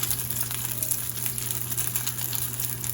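Beef bulgogi dumplings pan frying in oil, an even, continuous close sizzle with light crackle and a steady low hum underneath, no voices.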